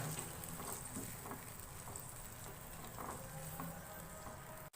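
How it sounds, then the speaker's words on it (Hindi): Boiled potatoes frying with spices in a pan over a medium flame, a soft, steady sizzle with faint stirring, quiet and continuous. "मीडियम फ्लेम पे आलूओं को मसाले के साथ इतना भूनेंगे"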